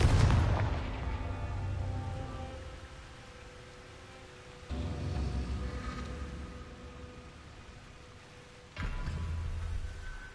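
Confringo explosive spell cast in the Hogwarts Legacy video game: three heavy booming blasts, each with a deep hit and a long rumbling tail that fades before the next.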